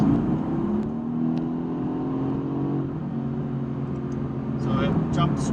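A 2017 Mercedes-AMG GT S kicks down from seventh to fourth gear and accelerates hard, its engine note rising steadily from inside the cabin beneath a voice talking.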